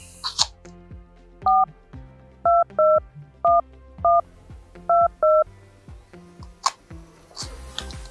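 A mobile phone plays DTMF dialing tones while a call is placed, with about eight crisp, evenly spaced keypad beeps in a quick sequence. Soft handling clicks surround them, and no one speaks.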